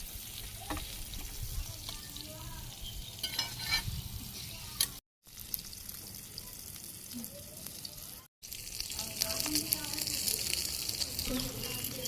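Fish fries on a handmade clay stove outdoors, a continuous crackling sizzle with scattered pops and some faint background noise, broken by two brief cuts of silence.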